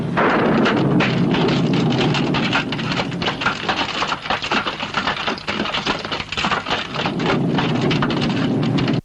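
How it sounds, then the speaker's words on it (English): Steady heavy rain sound effect from a Turkish film pours down with dense hiss and patter, a constant close downpour with occasional soft thuds and no voices. "If you didn't know it was raining outside, listen to these realistic sound effects."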